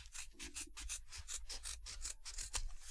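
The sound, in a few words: scissors trimming a fold of cloth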